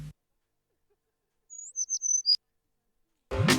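A single bird gives a few thin, high chirps and a quick whistled call in an otherwise quiet gap, close and clear, with brief bursts of other sound at the start and end.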